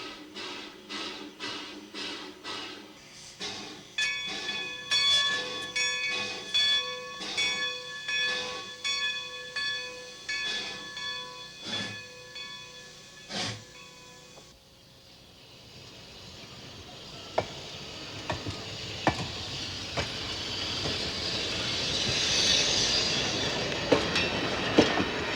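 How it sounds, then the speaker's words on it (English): A train backs slowly onto an old siding with rhythmic clanking and squealing of cars over rail joints, then a hissing rush of air as it continues; no voices. "the train begins to back up onto the old siding"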